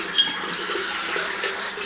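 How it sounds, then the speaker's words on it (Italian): Tap water runs steadily into a small shaving bowl during a traditional wet shave, a close, even hiss with no talk. "riempire la mia ciotolina che utilizzo per inumidire le punte del pennello"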